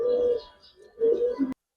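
A pigeon cooing close by in a loft: two soft, throaty coo phrases separated by a brief pause, the second cut off abruptly, with no other sounds around them.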